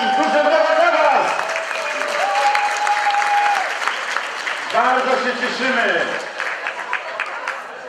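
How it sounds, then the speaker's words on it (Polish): Audience applause filling the room steadily and loudly for the whole stretch, while someone speaks over it. "Duże brawa dla was!"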